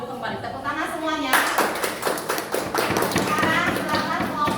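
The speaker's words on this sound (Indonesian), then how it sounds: "Tepuk tangan semuanya." Classroom applause for a presenting group of students, a burst of clapping and taps starting abruptly and continuing steadily, with voices mixed in.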